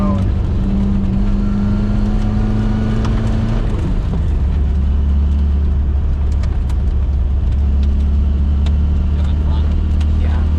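A 1973 Saab Sonett rally car driving on snow on winter tyres, its loud engine droning steadily from inside the cabin, pitch shifting as it changes gear near the middle, with occupants talking over the noise.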